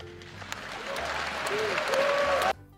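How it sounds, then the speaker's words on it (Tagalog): A crowd applauds at a political gathering, with dense sustained clapping that swells and then cuts off abruptly near the end, with a voice audible over it. "Ba't pinalakpakan nyo agad?"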